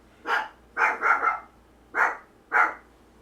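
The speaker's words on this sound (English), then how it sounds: "the dogs start barking" A dog barks five times in irregular short bursts, close and fairly loud, in an otherwise quiet indoor room.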